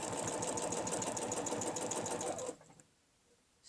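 A sewing machine stitches a curve on a quilting piece with a rapid, steady mechanical chatter up close, then stops abruptly, leaving near silence.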